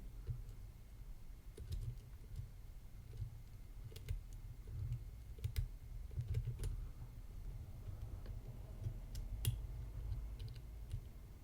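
Lock pick working the pins of a Fichet MCM 4SS lock gives small, sparse metallic clicks and ticks, close and quiet, scattered over a low steady rumble.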